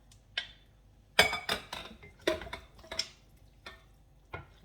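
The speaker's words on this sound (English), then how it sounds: "To that, I'm just going to dump in my meatballs." Meatballs drop into a pot of spaghetti and sauce as a series of separate wet thuds and clinks, with sharp utensil taps against the pot and gaps between them.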